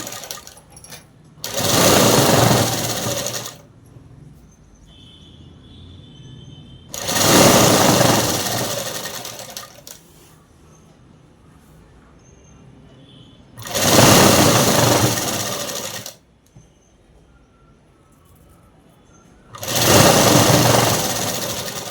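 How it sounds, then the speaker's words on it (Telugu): Sewing machine stitching cloth for a midi dress, running in four long loud bursts of a few seconds each with quiet pauses between them. "ఈ అసలైన క్లాత్ మీద మాత్రమే అనేది కుట్టు వేసేసి"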